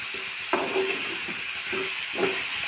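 Tomatoes frying in oil in a pan for bitter gourd chutney, a steady hiss with faint sizzle and a few soft knocks of a spatula against the pan, no talking.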